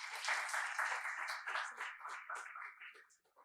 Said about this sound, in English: Please welcome Dr. Kaustuv Manna with a round of applause.